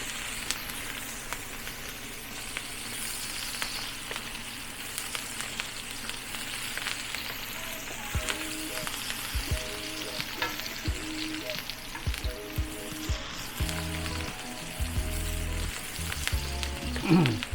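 Garlic and onion frying in a pan for pork dinuguan, a steady close sizzle with occasional stirring scrapes and utensil clinks, growing busier toward the end with no talk over it.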